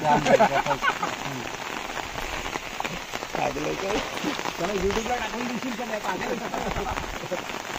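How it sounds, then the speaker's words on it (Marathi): Steady rain falling outdoors in the Konkan countryside, a dense close hiss of drops on surfaces that stays fairly even throughout, with faint voices underneath at times. "पाऊस थोडा कमी झालाय"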